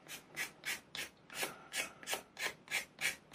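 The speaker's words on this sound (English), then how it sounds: "sanding down Balsa into a dust" Steady back-and-forth rubbing of sandpaper on soft balsa wood, sanding it into dust, about ten quick, even strokes, close up and fairly quiet.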